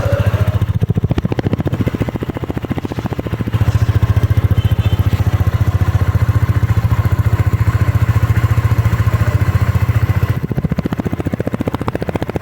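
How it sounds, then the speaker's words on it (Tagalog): A Bristol AX 180 motorcycle engine runs steadily with a deep, throaty idle through its heat-guarded muffler, loud and close, swelling briefly in revs midway before settling back, with no talking. "Tama-tama na yung sound niya, maton na maton ng datingan, di ba?"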